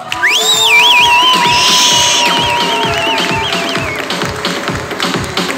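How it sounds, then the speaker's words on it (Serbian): Crowd at an MMA event in Tutin clapping and cheering loudly, with rhythmic claps under whistles and shrill shouts that fade slightly toward the end. "molim vas aplauz za Stefana Pijulka"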